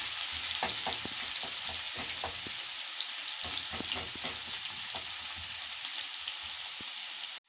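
Liver stew frying in a pan until golden brown, with a steady, close sizzle and crackle that runs unbroken and then cuts off abruptly at the end.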